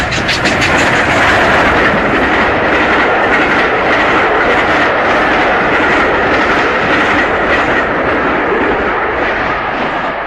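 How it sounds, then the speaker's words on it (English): Steam locomotives, a Princess Royal and an NWR 3, haul matching passenger coaches at full speed. A loud, dense rumble and roar carries steady rhythmic clatter throughout, close and continuous, with no voices. "a Princess Royal and an NWR 3 at the same time, at full speed with the passenger working, coaches matching his livery"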